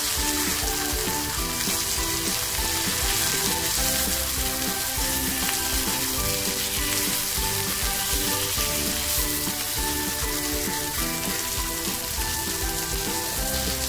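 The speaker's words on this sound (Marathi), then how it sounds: "बघा आपली मच्छी फ्राय चालू आहे" Silver bar fish frying in a pan gives a constant loud sizzle and crackle of hot oil for the whole stretch, with faint background music underneath and no talking.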